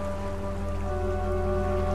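Gentle water rippling at Fetch Rock in the video game Dark Fall, a soft continuous rain-like patter under a steady low ambient drone, unbroken and fairly quiet.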